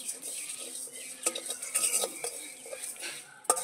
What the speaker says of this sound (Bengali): এখানে সব মশলাগুলো ঢেলে দিয়ে দেবো, একটু ভাজা করে নেবো মশলাগুলো।